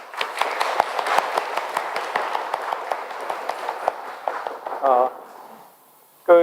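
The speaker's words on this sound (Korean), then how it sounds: "자리에서 한번 일어나시면 우리 박수로 환영하겠습니다" A church congregation claps to welcome a visiting pastor and his wife, with a brisk patter of hands that thins out and fades, followed by a short burst of speech at the close.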